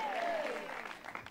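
A congregation claps during a church service, a short, moderately loud round of many hands with a faint descending whistle-like tone gliding through the opening moments.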